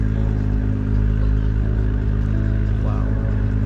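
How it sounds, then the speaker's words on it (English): Acura NSX with custom rear wing and rims, its engine idling and revving nearby, a steady loud rumble with layered harmonics and a short pitch swell near the end. "Let's hear this Acura SX again"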